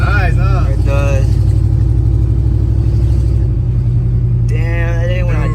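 A 1988 Chevy truck engine rumbles loud and close with a steady low throb and slight rises in pitch, while voices talk over it at the start and end.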